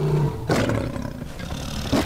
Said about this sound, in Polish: Rzadki czarny lew!